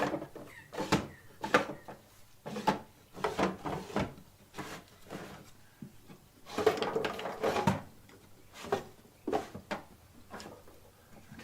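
Drawers in a home desk or storage unit are pulled open and pushed shut repeatedly during a search, giving a rapid series of close wooden knocks, slides and rattles with short pauses between bursts.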